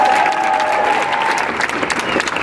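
A street protest crowd in Denver applauds loudly, a dense, close roar of clapping and cheering that fills the whole moment, with a thin whistle or tone briefly riding over it.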